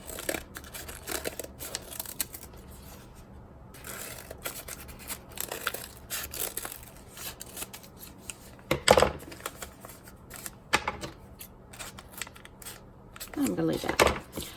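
Scissors snip through rolled newspaper, trimming the uneven pointed top of a handmade carrot decoration, with crisp intermittent cuts and paper rustling close up and soft talk in between.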